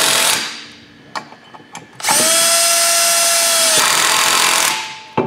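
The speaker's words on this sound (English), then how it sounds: "drill where you can set the clutch settings so we're not over torquing the bolts" Cordless drill with clutch setting driving flange bolts on 4- or 6-inch industrial compressed air piping: a few short taps, then one long, loud, steady run of about two and a half seconds before stopping.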